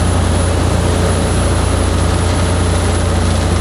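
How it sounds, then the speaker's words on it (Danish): A small speedboat travels up a river in Laos toward China, its engine a loud steady drone with constant rushing wind and water noise, close and unbroken, with no talking. "vi går ombord i en mindre speedbåd, der sejler os videre op til Yinghong i Kina"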